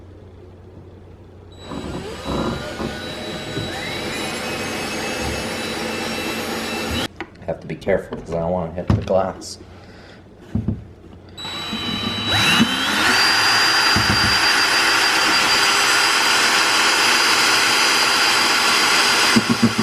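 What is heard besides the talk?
drilling a hole in a cabinet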